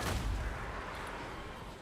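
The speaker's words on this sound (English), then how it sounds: "Zippet cannon they're going to be shooting." A single heavy cannon shot booms in a Total War: Warhammer II multiplayer battle, a loud blast with a rumbling tail that fades over about two seconds.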